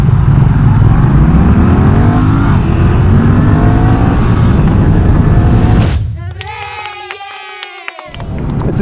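A Moto Guzzi V7 850 and a Ducati Scrambler 800 accelerate hard, their engines droning loud and close with a steadily climbing pitch for about six seconds before cutting to a quieter whining tone.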